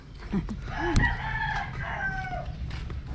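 A rooster crows close by, one drawn-out call rising and falling over about two seconds, with faint clucking around it.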